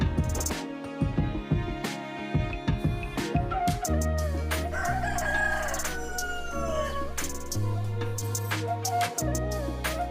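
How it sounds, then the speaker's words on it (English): A rooster crows loudly over a dense, constant farmyard background, with clucking-like bursts early on and a long, steady crow running through the middle. "Cock."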